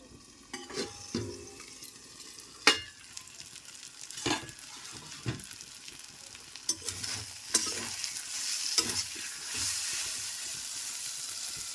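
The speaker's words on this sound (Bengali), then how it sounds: "আদা বাটা আর চিনি দিয়ে নাড়াচাড়া করে নিলাম" A spoon stirs hilsa fish head with taro greens in a pan on the stove, giving intermittent scrapes and clacks against the pan over a soft sizzle that grows louder and hissier toward the end, with no voices.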